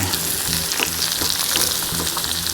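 Chopped ingredients tumble into a pan of frying potatoes for hunter-style potatoes, and the pan answers with a loud, steady sizzle and crackle. A few soft stirring clatters sound close by.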